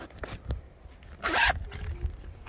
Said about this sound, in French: il y a une fermeture éclair à l'intérieur.